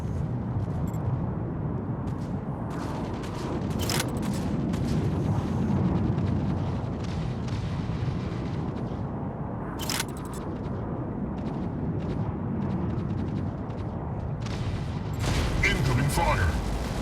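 Mech Arena battle sounds: continuous rumbling gunfire and booming explosions, dense and loud throughout, with sharp impact bursts and occasional robotic in-game voice alerts over the barrage.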